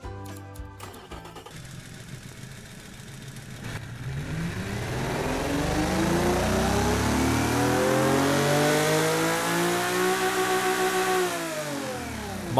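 A virtual 8.0L V12 dune truck engine in the Automation game starts with a few clicks, then revs up into a loud, gnarly, rising roar, holds high, and falls back near the end, with no talking.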